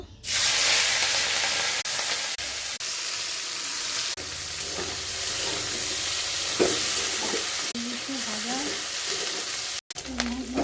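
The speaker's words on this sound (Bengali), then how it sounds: "মাছগুলো ভেজে নেব।" Fish fries in oil in a wok with a loud, steady sizzle and occasional stirring scrapes, and a faint voice comes in under the hiss near the end.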